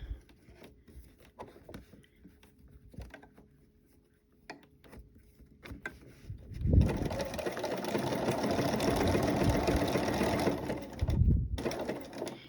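A sewing machine stitches through a coiled rope bowl, starting after quieter handling sounds and then running as a steady close mechanical whir with rapid needle clatter for several seconds, briefly pausing before resuming.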